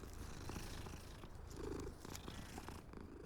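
A cat in the Hogwarts Legacy video game purrs steadily while being petted, a continuous low rumbling hum that stays close and even for the whole stretch with no talking.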